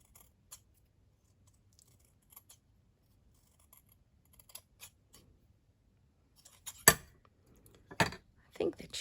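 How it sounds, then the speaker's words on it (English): Fabric scissors snip through fabric for an anniversary card project, giving a few quiet, sparse clicks early on, then sharper, louder cuts clustered near the end, set in an otherwise hushed room. "I use my fabric scissors, just eyeball it a bit."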